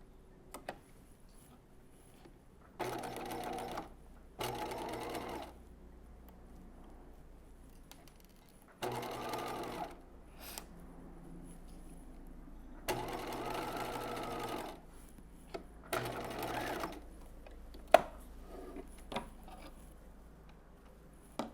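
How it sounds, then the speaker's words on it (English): Several short bursts of a sewing machine stitching the short end of a skirt seam, separated by quiet pauses with faint handling clicks and taps, fairly close and alone. "stitch the other side, the other short end. Using 5/8 of an inch seam allowance."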